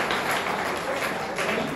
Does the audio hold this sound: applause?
yes